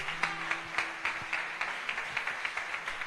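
A church congregation applauding during a service, with sparse, fairly faint hand claps in an irregular rhythm over a roomy background hiss.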